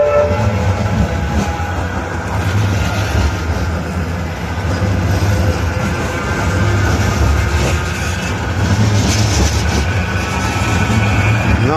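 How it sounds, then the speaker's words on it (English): A Manchester tram passing through St Peter's Square, its rolling rumble and rail noise loud and close, sustained throughout over city street ambience. "And that was a tram."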